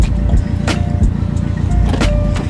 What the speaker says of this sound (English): I'm about to get in Miguel's car right now.